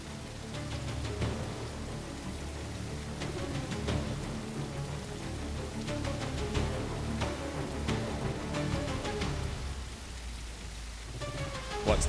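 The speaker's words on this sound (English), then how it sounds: "The rain set in, masking our movements" Rain falls in the dinosaur survival game The Isle: a steady, hissing downpour with scattered close drops patters on the ground throughout, and a low rumble runs beneath it.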